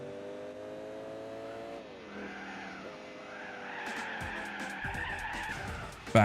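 A Chevrolet Silverado truck in Gran Turismo 4 skids with a steady engine drone, then sliding tire noise rises and scrubs more loudly toward the end, with a sharp hit at the finish.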